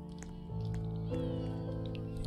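A drawn-out meowing cry in a Roblox obby game, steady and tonal, close and moderately loud, sounding like a voice imitating a cat.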